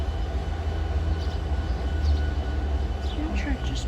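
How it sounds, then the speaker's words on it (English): Amtrak passenger train passing by, a steady low rumble of rolling wheels and cars, fairly distant and continuous, with a few faint higher tones and a voice speaking briefly. "The Amtrak just passed right there."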